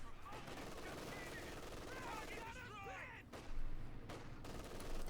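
Battle in Company of Heroes 2 with MG42 machine-gun fire and mortar fire: continuous rattling automatic fire under dense combat noise, with faint whistling tones and a heavier thump partway through.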